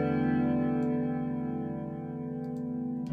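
A sustained synth chord runs through the free Wider plugin, whose chorus widening gives it a steady, shimmering spread. A few faint ticks sit on top.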